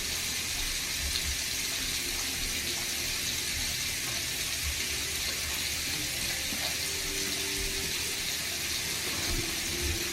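Water runs steadily from a tap onto hair being drenched, a continuous broad hiss with faint splashing underneath, close and even in level throughout with no talking.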